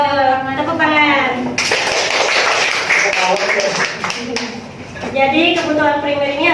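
Schoolchildren in a classroom clap on cue, with a short burst of applause in the middle surrounded and overlapped by talking voices.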